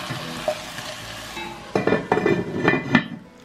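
Vegetable paneer kurma frying in a pan, stirred with a utensil: soft sizzling throughout, then a run of scraping, clinking stirs in the last half, close and fairly loud, with no talk.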